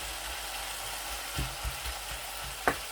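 Keema being stirred on a tawa griddle with onions added, a steady soft frying sizzle throughout, broken by a few brief scraping clinks of the spatula against the metal.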